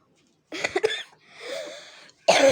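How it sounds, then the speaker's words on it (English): A person gives a few short, close coughs, followed by a softer breathy sound and then another harsh burst. "Coughed a little."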